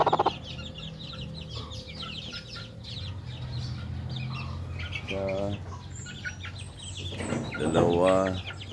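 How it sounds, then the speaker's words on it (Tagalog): Backyard hens, some brooding, cluck and squawk at close range, with bursts of louder clucking calls and faint chirps from chicks over steady outdoor background noise. "Mayroon tayong 4 na inahin na kasalukuyang naglilimlim."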